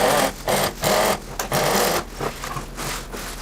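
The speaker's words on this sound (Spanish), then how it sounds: "Vamos a pisar por el orillo para asentar la costura." A sewing machine topstitches along the seam edge of a classic women's shirt in short, whirring bursts with brief pauses between runs, close and fairly loud, with no voice.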